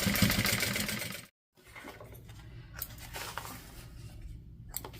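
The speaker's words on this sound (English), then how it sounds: "And now I am going to top stitch this in place, but just right here." A sewing machine runs steadily while top stitching a fabric lining in place, a continuous mechanical whir that stops briefly, then resumes at a lower, quieter hum with faint clicks.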